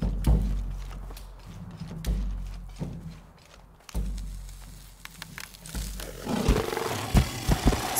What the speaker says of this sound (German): Ein gepanzerter Tiger.